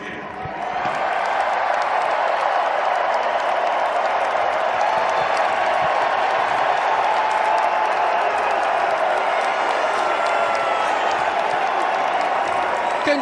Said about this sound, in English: I don't think the 12s will ever stop cheering